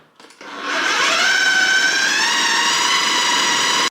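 A blender whirs loudly as it mixes peanut butter into a thick protein dough, the motor spinning up quickly to a strained, steady high-pitched whine that runs unbroken to the end.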